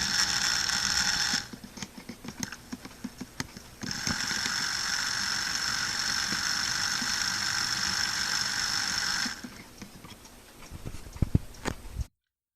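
Airfix Fowler 4F OO gauge model locomotive running in reverse on a rolling road, giving a steady mechanical gear whir with ticking that drops out twice and returns, then scattered clicks near the end.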